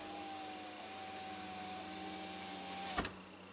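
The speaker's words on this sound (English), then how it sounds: "Close window front passenger side." A 2007 BMW 328Ci convertible's front passenger power window motor whines steadily as the glass closes, ending in a brief thunk as it seats; faint and alone, with no talk.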